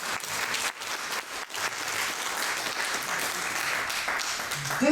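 An audience at a political campaign speech for a delegate candidate breaks into applause, a steady, moderately loud clatter of many clapping hands that continues throughout with slight dips.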